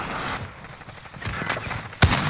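A sniper rifle fires in a Modern Warfare match over busy game noise, and one sharp, loud crack stands out near the end of the short passage.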